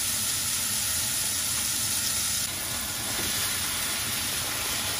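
Meat frying in a spoonful of oil in a pan, a loud, continuous close sizzle and hiss with no pauses and no talk.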